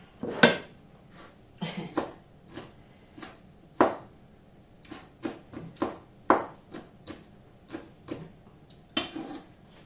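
Dishes being washed by hand: sharp clinks and clatters of plates, pots and utensils knocking together, coming in irregular bursts every second or so, close by, with no talking.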